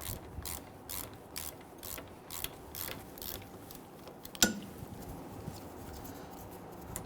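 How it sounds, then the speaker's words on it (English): A ratchet and an 18mm wrench loosen a rear brake caliper bolt on a 2011-2023 Dodge Charger: a rapid run of close ratchet clicks, then a sharp metallic knock and quieter fiddling, with no talking. "we're going to use our 18mm wrench to hold that while we remove this bolt"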